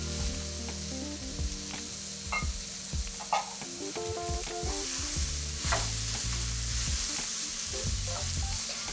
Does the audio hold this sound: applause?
no